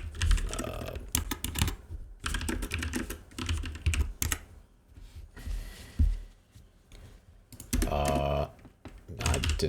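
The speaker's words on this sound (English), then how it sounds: "I didn't type it right" Rapid bursts of close clicking on a computer keyboard come in irregular clusters with short pauses, and a voice speaks briefly between them.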